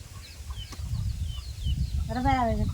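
Chickens cluck softly around a rural home, with low voices murmuring in the background, before one hen lets out a louder, drawn-out call near the end.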